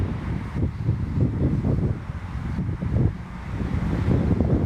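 Wind gusting outdoors on a grassy open spot, a steady low rumble buffeting the microphone throughout with surging swells and no talk.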